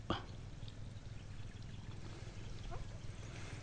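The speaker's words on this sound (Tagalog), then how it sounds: "ayun yung aking pinsan nagpapatubig" Water pours steadily across a bitter gourd (ampalaya) farm during irrigation, a continuous low rushing and trickling flow that runs the whole way through at moderate level, with no talking.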